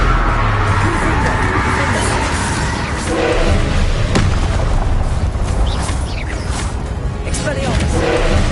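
Explosions from the Confringo blasting spell in a Hogwarts wizarding video game: dense, continuous booms and thuds over a constant rumbling mix, loud and busy, with a voice over the battle.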